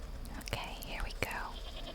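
A goat in the video game Wytchwood gives a single wavering bleat, mid-loud and close, while a soft whispering voice runs underneath.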